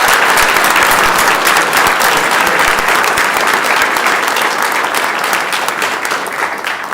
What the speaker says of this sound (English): Please give the color guard and Miss Bourne a nice round of applause.